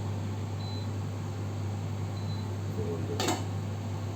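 A lid goes onto a pot of simmering tarka daal on the stove, one short clink near the end over a steady low hum from a kitchen fan or hob.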